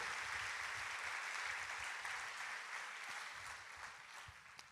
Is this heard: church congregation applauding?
yes